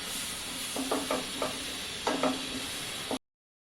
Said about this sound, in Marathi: हे सगळं छान आता तेलात मस्त परतून घ्यायचं आहे.